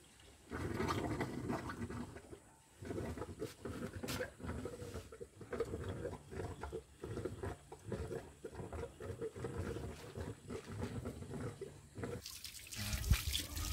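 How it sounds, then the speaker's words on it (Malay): Water from a newly installed tank flushes through a sand filter, rushing and splashing in an uneven steady stream with small drips, moderately loud and close, with no voices. "Kita buat flushing, bersihkan pasir yang baru masuk."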